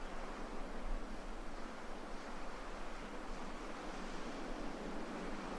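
Ocean waves and surf at dawn off Bali make a steady, full wash of broadband noise that swells gently with no distinct breaks, with no voices present.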